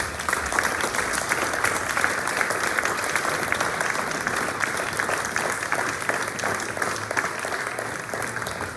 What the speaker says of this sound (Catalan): Un fort aplaudiment a tot l'equip de Junts.